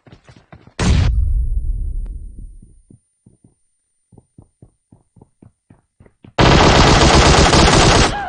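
Machine gun fire in a Hindi-commentated online shooter game: a long sustained burst, a string of separate spaced single shots, then another loud continuous burst close up, with no talk.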